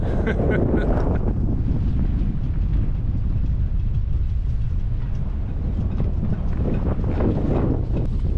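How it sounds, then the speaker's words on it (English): Strong, gusty tropical storm wind in Carriacou roars steadily across the microphone, a loud broadband rush with buffeting surges throughout. "Gusty right now, you can hear the wind blowing."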